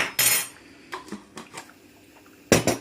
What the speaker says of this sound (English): Give it a stir, leave it to cook again.